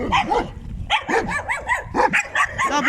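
A stray dog that wandered up to someone outdoors on a cold day barks over and over, close and loud, in quick bursts separated by short gaps.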